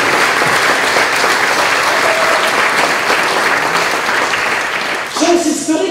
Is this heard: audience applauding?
yes